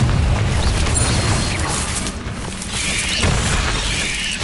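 Confringo explosive spell blasts from the video game Hogwarts Legacy, loud booming bursts over a dense, continuous roar of battle noise with no pauses.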